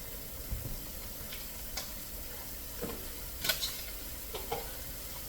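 Shrimp fry in a pan at home with a soft, steady sizzle throughout, broken by a few light scrapes and clicks of a utensil stirring.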